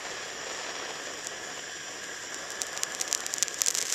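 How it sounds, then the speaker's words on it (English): A piece of Natural Rough Sleeping Beauty turquoise held in a flame pops and crackles as trapped moisture bursts, sharp ticks building into a rapid close crackle over a steady roaring hiss of the torch. "You hear that crackling?"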